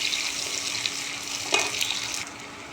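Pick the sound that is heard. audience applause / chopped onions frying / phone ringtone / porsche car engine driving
chopped onions frying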